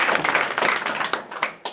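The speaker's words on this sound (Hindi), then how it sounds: "जोरदार ताली" An audience at a company meeting in Ayodhya claps loudly together, a close, dense patter of hands with a few sharper individual claps standing out as the applause thins toward the end.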